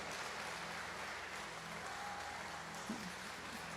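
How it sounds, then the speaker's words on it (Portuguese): Church congregation applauding during a worship service, a continuous soft roar of clapping heard from a distance, with a faint tone and a brief thump near the end. "Você pode dar um forte aplauso ao Senhor?"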